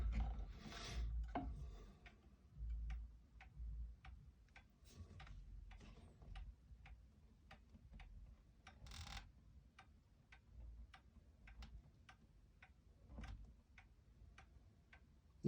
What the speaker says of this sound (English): skidding the bottom of the clock over just a hair until I hear the nice even tick-tock